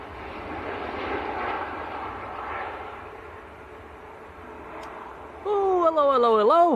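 A Ryanair airliner from Girona passes over Manchester Airport as a moderate, fading engine rumble, then a voice breaks in near the end.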